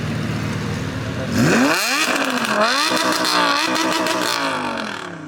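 A car engine revs up loudly, rising and falling in pitch as it pulls away close by, leaving a car show.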